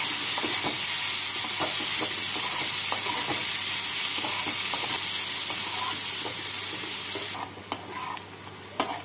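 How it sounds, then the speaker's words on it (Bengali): Chopped onions fry until red in a pan after a kalo jeera tempering, a loud continuous sizzle broken by regular scraping stirs, ending in a few sharper knocks of the spoon. "পেঁয়াজগুলোকে লাল করে ভেজে নিচ্ছি।"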